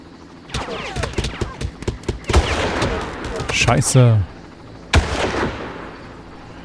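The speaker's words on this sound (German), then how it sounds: "der Entfernung ballert er mit seinem Maschinengewehr auf uns" Machine gun fire in the video game Far Cry rattles in rapid bursts with heavier single shots, loud and close, while a man briefly swears.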